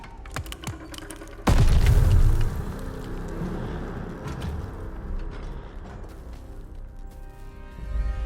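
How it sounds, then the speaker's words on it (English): A grenade goes off in Call of Duty: Vanguard, one sudden heavy boom that rumbles for about a second, then gives way to lingering low rubble and crackling combat noise with faint clicks around it. "Grenade! Get down!"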